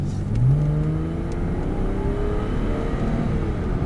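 Porsche Boxster engine accelerating again on a driving-course track, heard from inside the car as a steady rising drone over continuous road rumble.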